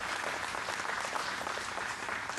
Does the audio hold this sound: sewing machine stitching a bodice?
no